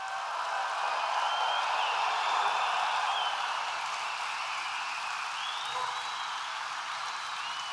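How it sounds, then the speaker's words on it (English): A large audience at a presidential event applauds veterans in a steady, dense roar of clapping and crowd noise, with a few thin whistles rising over it, held at an even level throughout. "we want to give them a big, big, beautiful round of applause."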